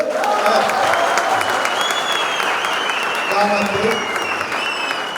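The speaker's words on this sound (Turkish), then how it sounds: "burada alkışı hak etti" Applause from guests at a civil wedding ceremony officiated by the mayor of Osmangazi, Bursa, a steady wash of clapping lasting throughout with crowd murmur and a voice or two underneath.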